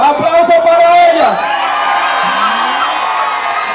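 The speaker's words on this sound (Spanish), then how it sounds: "¡Aplauso para ella!" Crowd at a town patron-saint festival in Nagua cheers and whoops loudly, with shouts and an announcer's voice over the din, the noise sustained and close throughout.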